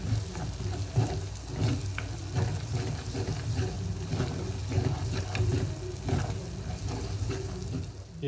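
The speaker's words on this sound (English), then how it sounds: "So fry this until the garlic is cooked too" Garlic and curry leaves fry in hot oil for a black pepper sauce, giving a steady, close crackling sizzle with small pops and faint utensil scrapes throughout, no talking.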